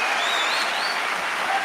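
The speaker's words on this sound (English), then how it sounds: "I'm gonna let the applause go to full time." Audience applause at a live talk event, a dense steady wash of clapping that stays loud and even throughout the short stretch, with a faint trace of a voice underneath.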